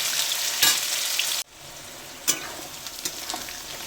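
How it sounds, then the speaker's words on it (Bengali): Onions fry in a pan, with a bright crackling sizzle that abruptly drops to a softer, steady hiss, punctuated by a few stirring knocks. "এবারে পেঁয়াজগুলো দিয়ে দেবো, পেঁয়াজটা লাল করবো"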